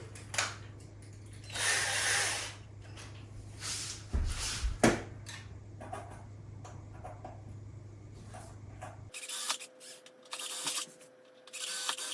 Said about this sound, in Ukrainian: Далі беремо ще свердло по металу на три і робимо отвори.